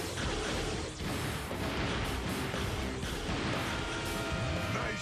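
Cartoon blaster fire erupts in a dense, loud barrage of rapid zapping shots and crashing impacts, almost without a break, with a short dip before the volley resumes.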